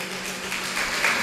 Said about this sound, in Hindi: जोरदार तालियों से इनका स्वागत